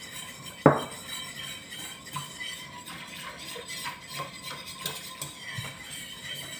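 A spoon stirs cornstarch into a quart of water for a corn avocado jelly, opening with one sharp clink of metal on the container, then softer scattered clinks and scraping, close and fairly quiet, without talk.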